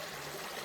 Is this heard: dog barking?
no